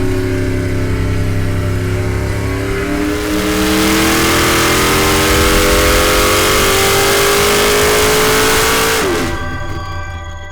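A Dart 440 cubic-inch small block Chevy V8 roars on an engine dyno, climbing steadily in pitch through a long, loud, sustained pull before sharply dropping off near the end.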